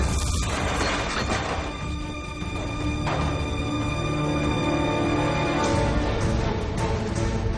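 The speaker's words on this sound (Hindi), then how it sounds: "और ये हुआ धमाका।" A loud, dense crashing blast with rumbling and metallic debris from an explosion in the Hollywood movie Fortress, sustained and heavy throughout, with no voices.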